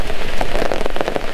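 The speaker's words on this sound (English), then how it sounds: "It's raining." Rain falls on a tarp at a maple-wood campfire camp, a loud, close, continuous patter of drops tapping irregularly on the taut surface.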